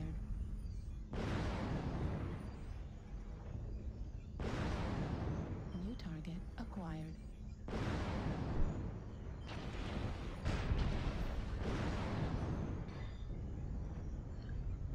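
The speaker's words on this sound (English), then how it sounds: "Look at somebody artillery strike us." Artillery strike explosions in the mech combat game MechWarrior Online, a series of loud, sustained booming blasts with rumbling tails, each burst lasting a couple of seconds and following closely on the last.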